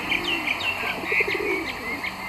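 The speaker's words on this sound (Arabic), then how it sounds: "الحمام من أشهر الطيور بالعالم وله ألوان" Pigeons in a bird garden coo softly in repeated short phrases, mixed with a few chirps from other birds nearby over a steady outdoor background.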